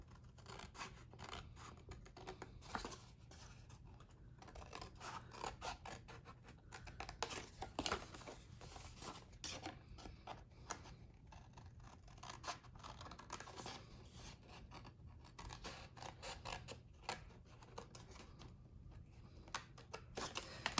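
Scissors snip through the sides of paper treat boxes in quick, quiet repeated cuts with papery rustling, close but faint, without any talking.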